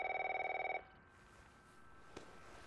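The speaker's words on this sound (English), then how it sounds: "Someone's calling. Answer it." An old-style telephone bell rings in rapid trills within The Last of Us game, loud and close for under a second before cutting off into a quiet room tone with a single faint click.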